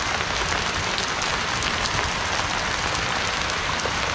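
Hail pelts down over a village in Uttarakhand, India, a dense, steady roar of pattering impacts that fills the scene without a break and with no voices.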